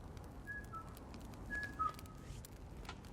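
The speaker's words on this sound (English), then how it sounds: "Nice whistle." Someone whistles a few faint, thin, drawn-out notes in a quiet scene, with low background noise and no talk.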